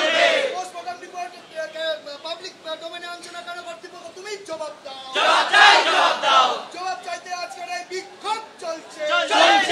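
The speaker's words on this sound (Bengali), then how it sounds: "তুমি দেখতেই পাচ্ছ এখনো পর্যন্ত সেই স্লোগান চলছে।" Junior doctors protesting at National Medical College chant slogans together, a loud crowd of voices rising and falling in rhythmic bursts, swelling strongly midway with shouted cries.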